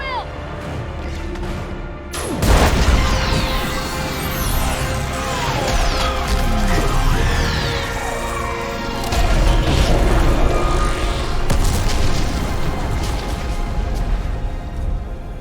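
Orbital strike pounding a live Reaper in Mass Effect 3: a sudden loud blast followed by sustained rumbling explosions, crashing debris and mechanical roar, dense and continuous, with shouted voices over the chaos.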